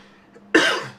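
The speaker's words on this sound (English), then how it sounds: "Coughing attack." A single sharp cough bursts out close by after a moment of near silence, then trails off quickly.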